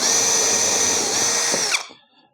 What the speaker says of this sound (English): I'm going to pre-drill this first one,